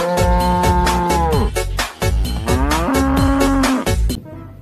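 A cow moos loudly and close, two long drawn-out lowing calls, one after the other, with nothing else competing.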